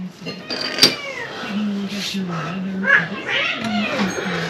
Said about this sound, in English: My cats just have to fight over that damn tool bag.